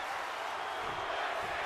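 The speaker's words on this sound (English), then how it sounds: "Oh, you hear the crowd here in Tampa Bay" A simulated arena crowd in Tampa Bay at WrestleMania in the wrestling video game WWE 2K roars as a dense, steady wash of cheering, fairly faint and unbroken throughout.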